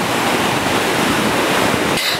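Waves roll in on a beach at night, making a loud, steady, close roar of surf and rushing water that fills the whole stretch before easing slightly at the end.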